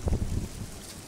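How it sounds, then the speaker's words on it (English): Low, buffeting rumble of wind hitting a microphone, strongest in the first half second and then settling into a steady gusty roar. "Sorry about the wind. It's a very windy day today."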